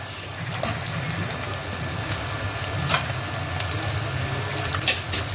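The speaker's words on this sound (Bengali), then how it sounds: "এবার আমি এই ভাজা মাছের মাথাগুলো এখানে দিয়ে দিচ্ছি।" Fried fish heads go into a pan of sizzling masala, which gives a steady frying hiss with faint crackles throughout and no talking.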